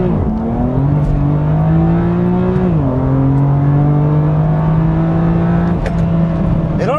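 A BMW M2 with a detuned S55 twin-turbo engine borrowed from the F80 M3 revs with a loud, close, steady drone, the pitch dipping briefly and then holding steady with no talking over it.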